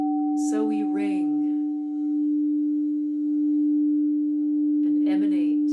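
Steady, pure ringing of a crystal singing bowl holds a sustained tone throughout, with brief speech at the beginning and again near the end over the resonance.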